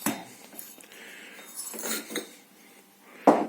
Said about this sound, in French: Comme je disais, avec mon outillage, je tape dessus.